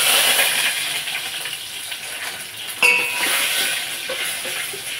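Oil sizzles in a pan as a tempering for moong dal rasam is started, a steady bright hiss with a sharp metallic clink partway through.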